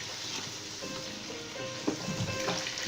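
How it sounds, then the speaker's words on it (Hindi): Chicken pieces frying in hot ghee for a Lahori biryani, a steady soft sizzle with an occasional stir and clink of the spoon, close and fairly quiet. "पाँच मिनट तक हम चिकन को फ्राई करेंगे घी के अंदर"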